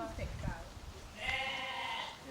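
A sheep gives one drawn-out, wavering bleat close by, after a few brief muffled sounds.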